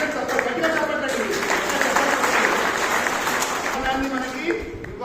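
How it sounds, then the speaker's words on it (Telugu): Loud, sustained applause from a large audience at a public meeting in Nizamabad, steady crowd clapping filling the whole stretch with no pause. "ఆ భవనాన్ని మీ అందరూ గట్టిగా చప్పట్లండి"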